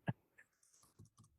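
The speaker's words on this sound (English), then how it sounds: "Keyboard, how quaint." A few keyboard clicks from a Star Trek movie scene: one sharp tap, then a handful of light, irregular keystrokes spread over a second and a half, quiet and close, with no one talking.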